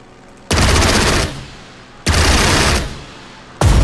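Machine gun return fire in the video game Strategic Mind: Spirit of Liberty, heard as three loud, rapid bursts of automatic gunfire, each roughly a second long, separated by brief quieter gaps.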